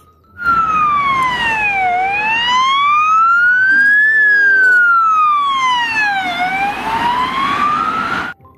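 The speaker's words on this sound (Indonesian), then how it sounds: "Yang ini mobil ambulans." A toy ambulance plays its electronic siren, a loud wailing tone that sweeps slowly down and up in long cycles for several seconds, close and alone.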